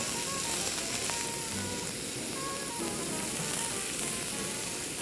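Cut vegetables, soaked to remove starch, are lightly stir-fried in a pan for jajangmyeon, giving a steady close sizzle with faint clinks and soft stirring scrapes, no voices.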